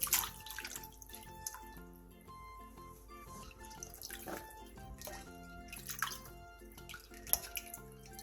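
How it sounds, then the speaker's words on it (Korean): Blanched garlic scapes drain after a cold-water rinse, with steady close dripping and trickling water, small splashes and faint clinks throughout, without any talking. "데친 마늘종은 바로 찬물에 헹군 뒤 물기를 빼놔주세요."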